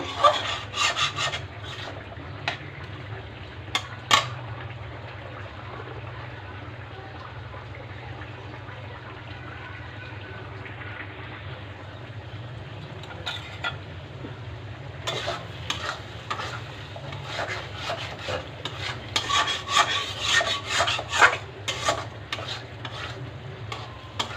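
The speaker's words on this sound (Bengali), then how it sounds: "এখন চিংড়ি মাছ দিয়ে মশলাটাকে ভালো করে কষিয়ে নেব" Large prawns stir-fried with spice paste in a pan, continuous scraping and stirring with a low sizzle underneath, close and steady, the scraping growing busier toward the end.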